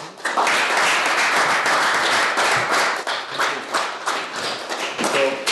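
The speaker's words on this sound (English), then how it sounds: "So please welcome Mukul Pal with a big round of applause." An audience gives a sustained round of applause welcoming an interview guest at a tech talk, dense clapping throughout at steady loudness, with a few isolated claps near the end as it tapers.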